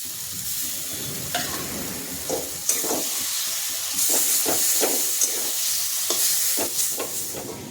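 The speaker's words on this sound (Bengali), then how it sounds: "দেখো বন্ধুরা চর্বিটা কষা হয়ে গেছে একদম লাল লাল করে কষা হয়ে গেছে" Mutton fat fries in a pan with a loud, hissing sizzle and bursts of steam, while a spoon stirs and scrapes at irregular intervals close by.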